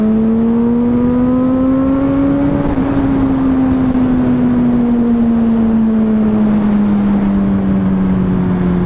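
A motorcycle engine drones loudly and steadily nearby, its pitch climbing briefly then easing down slowly as it passes, with no voices over it.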